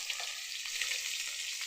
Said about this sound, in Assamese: মাছে কেৰাহীত বহাই দিলোঁ